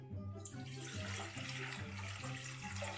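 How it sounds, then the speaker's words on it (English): Boiled water pours into a bowl in a steady, close splashing stream that lasts throughout, with a low hum underneath and no talking. "So take some water that you boiled,"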